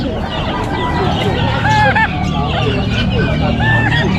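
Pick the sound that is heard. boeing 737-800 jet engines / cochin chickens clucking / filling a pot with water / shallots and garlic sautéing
cochin chickens clucking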